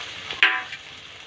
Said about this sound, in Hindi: अब उबले हुए आलू को हम लोग तेल में डालेंगे।